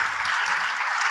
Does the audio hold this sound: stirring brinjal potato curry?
no